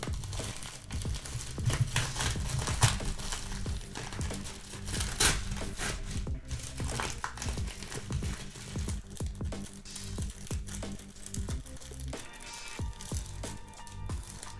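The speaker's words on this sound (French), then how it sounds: "On va déballer ça tout de suite." A parcel is unpacked, its plastic wrapping crinkling and rustling close by in irregular bursts, with scattered rattles and tearing handling noises throughout.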